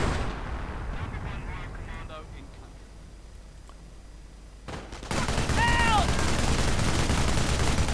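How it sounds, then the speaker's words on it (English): In a Company of Heroes 1v1 match, artillery and gunfire crackle in bursts of battle noise. A louder barrage swells near the end, and a commentator talks throughout. "More artillery getting called down."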